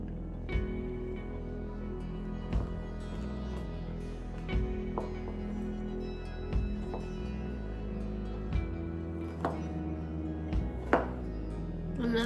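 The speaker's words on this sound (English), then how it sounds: "I'm gonna go ahead and cube this." A knife cubes vegan ham on a cutting board, a few sparse, crisp chops spaced a second or two apart, with tonal background music running underneath.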